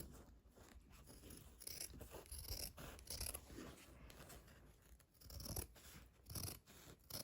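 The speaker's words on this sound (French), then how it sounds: "j'ai pris un ciseau qui n'a rien à voir avec mes ciseaux de couture" Ordinary scissors cut through fleece padding fabric, making repeated soft rasping snips in an uneven rhythm, close and quiet, with no talking.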